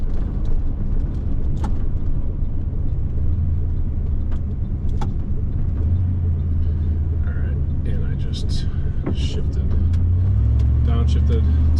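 A 1994 Ford truck drives along, its engine rumbling low and steady throughout, with gear shifts audible as pitch changes. Brief clicks and light rattles sound over the continuous engine drone.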